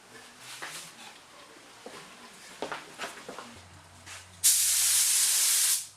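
A burst of spray finish hisses onto a mandolin for about a second and a half, loud and close, after a few faint knocks and shop noises.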